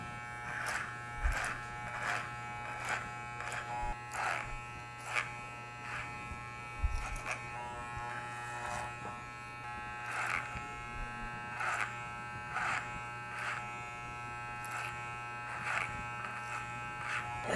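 An electric hair clipper buzzes continuously while tapering short hair, with repeated brief cutting strokes against the steady motor hum, close and clear.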